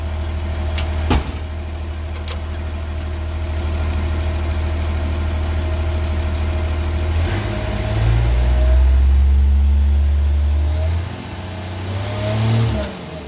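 A 1949 Cummins diesel engine with a newly installed exhaust brake, idling with a low rumble then revving up loudly and dropping back, close by, with a hiss suggesting an air leak.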